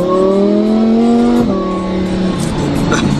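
A fast car's engine drones steadily under load while driving, its tone rising smoothly, dipping at a shift, then climbing again, loud and close inside the cabin.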